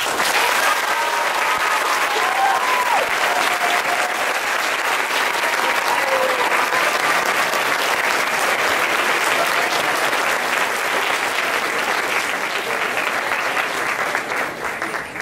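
Sustained, full audience applause at a student Model United Nations convention as alternates are introduced, a steady roar of many hands continuing for about fifteen seconds.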